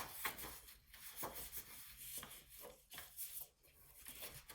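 Paper being scored on a scoring board with a bone folder: repeated rubbing, scraping strokes in an uneven rhythm, close and quiet, with no talking.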